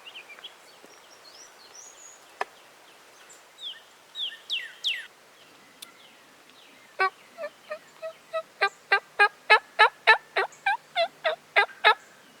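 A wild turkey gobbler gobbles nearby, a rapid string of loud, sharp rattling gobble notes, preceded by softer scattered bird calls and chirps in the outdoor quiet.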